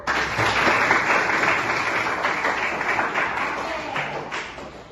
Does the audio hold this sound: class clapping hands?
yes